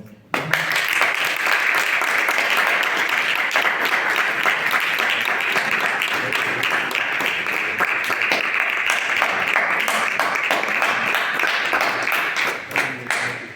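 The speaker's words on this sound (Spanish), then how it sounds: "Fuerte aplauso, por favor" A full audience at a political talk gives a loud, sustained round of applause, dense steady clapping that carries on strongly for over ten seconds before thinning out at the end.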